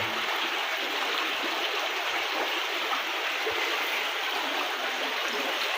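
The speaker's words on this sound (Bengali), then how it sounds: "কী কারণে পানিগুলো ব্যাত করে এদিক দিয়ে নামছে" Floodwater rushes through a village in a flooded area of Barura, Bangladesh, running between houses as a steady, loud, broadband flowing roar that continues without pause and with no voices.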